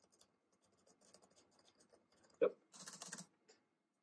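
Keys are tapped on a replacement keyboard fitted to a 12-inch iBook G4 laptop, quiet scattered clicks followed by a louder short burst of rapid presses, close to the microphone.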